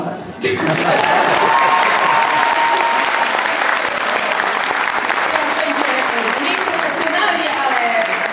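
Audience applause after a teachers' stage performance at a lower secondary school in Międzyzdroje, a dense, steady roar of many clapping hands that starts abruptly and holds loud for several seconds with voices mixed in.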